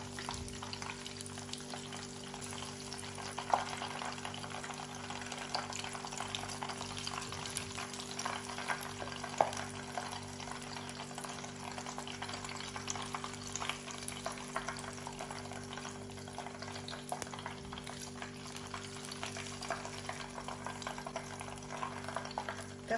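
Mozzarella sticks deep frying in oil give a steady, dense sizzle and bubbling hiss that runs evenly throughout, moderately quiet under a faint constant hum, with no voices.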